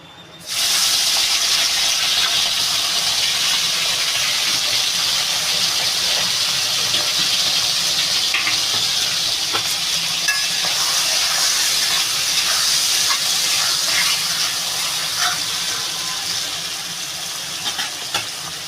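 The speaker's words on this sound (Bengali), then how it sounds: "তেলটাও আমার গরম হয়ে গেছে আমি চিংড়ি মাছটা দিয়ে দেবো" Prawns dropped into hot oil set off a loud, steady sizzle and hiss of frying that starts abruptly and holds for the whole stretch, easing slightly near the end.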